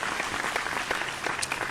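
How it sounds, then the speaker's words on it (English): An audience at a live singing competition show applauds a departing contestant, with brisk, even clapping that carries steadily from start to finish. "Round of applause, ladies and gents"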